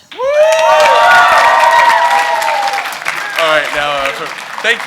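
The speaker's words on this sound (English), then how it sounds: "Thank you for your lovely rounds of applause." A convention audience at a BronyCon 2015 panel bursts into loud applause mixed with whoops and cheers, and a voice speaks over it as the clapping fades.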